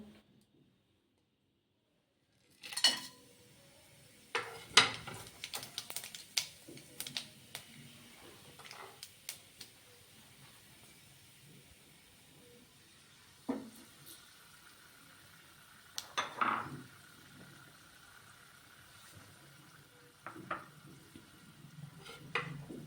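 Whole garam masala spices drop into hot oil for tempering. Quiet, scattered crackles and pops come in short bursts after a silent start, with light clinks of a pot in between.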